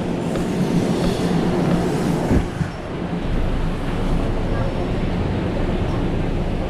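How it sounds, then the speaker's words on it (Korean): A Manila LRT light-rail train rumbles loudly through a station, with a low rolling roar and a brief clunk partway through, then a steadier hum. A person talks over the train noise. "기차 놓쳤네."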